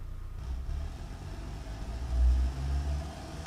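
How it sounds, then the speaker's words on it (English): A car engine in the Automation car-building game turns over and settles into a low, steady rumble, swelling briefly as it revs before easing back, heard alone and up close. "Let's just start her up and see how she goes."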